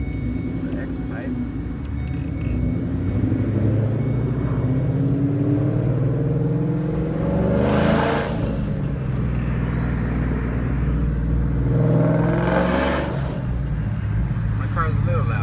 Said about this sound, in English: My car's a little loud.